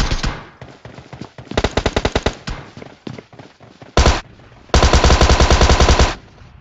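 Automatic weapon fire in PUBG Mobile: rapid bursts of close, loud gunshots with short pauses between them, then a long sustained burst near the end.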